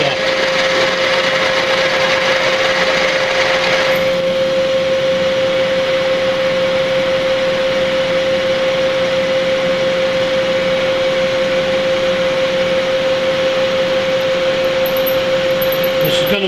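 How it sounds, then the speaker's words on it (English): A 5/16-inch drill bit bores down through metal, producing a steady, loud mechanical whine and hum that runs unbroken for the whole stretch. "I'm just going to come up here and drill down through with my 5/16."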